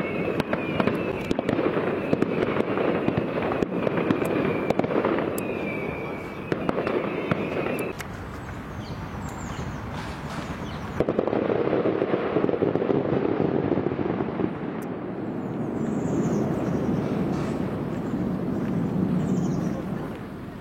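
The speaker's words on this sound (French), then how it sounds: "Ici, on fait des spectacles de feux d'artifice en plein jour." Daytime fireworks display in a park at Saint-Cloud, a dense run of crackling bursts and booms through most of the stretch, loud and continuous with brief lulls, heard from some distance outdoors.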